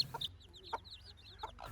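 A mother hen and her chicks, about to be moved into a new coop, give faint, scattered calls: a few short clucks with thin, high chick peeps in between, heard quietly close by.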